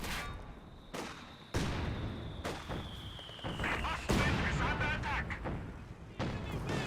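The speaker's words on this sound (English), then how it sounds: "And now getting hit by the mortar as well." Mortar fire striking units in Company of Heroes 2, a series of sharp explosive cracks and booms at irregular intervals over constant battle noise, loud and close, with a commentator talking throughout.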